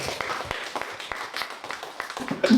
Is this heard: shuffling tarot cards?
no